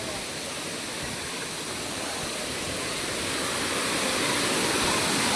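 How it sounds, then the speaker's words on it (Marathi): Savdav waterfall in Konkan roars as a steady, dense rush of falling water close by, swelling slightly louder toward the end with no voices. "ये देखो गाय धबधबा"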